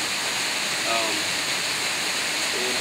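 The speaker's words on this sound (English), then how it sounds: "Blue Hole itself is a series of 4 separate cascades or waterfalls." Steady broadband rush of water from Blue Hole Falls, a chain of four cascades with about a 60-foot total drop, holding an even roar throughout with no talk over it.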